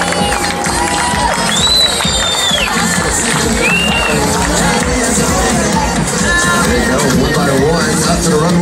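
A lively crowd at a bikini contest at a Hooters in Sanford, Florida, cheers and shouts loudly and continuously, with whistles rising through the dense babble and some clapping mixed in.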